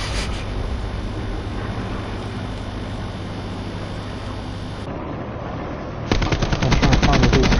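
Sustained automatic gunfire in the Call of Duty Black Ops zombies mode, a dense continuous rattle of shots with game noise underneath, growing louder and sharper near the end.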